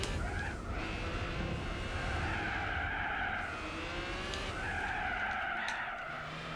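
A car in Gran Turismo 4 drives with a steady engine drone under continuous, wavering tire squeal and skidding that swells and fades across the clip, loud and close.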